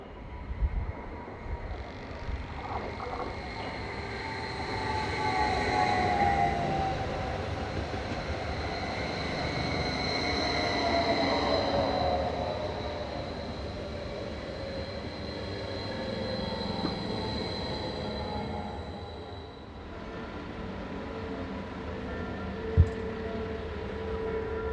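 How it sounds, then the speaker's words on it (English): Two coupled train units, 522201 and 521025, approach a station on a service to Laufen, a moderate rumble with rising and falling whines and a brief squeal, swelling then easing, with a sharp clank near the end. "Seen approaching the station are units 522201 and 521025 on a service for Laufen"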